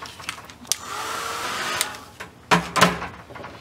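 A heat tool blows steadily over a mixed media art journal page, a continuous airy whoosh like a hair dryer running for a couple of seconds, broken by a few soft clicks and handling knocks near the end.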